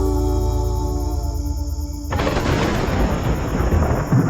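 Thunder from a lightning strike in an animated horror story breaks out halfway through as a loud, broad rumbling crash, replacing a steady droning tone.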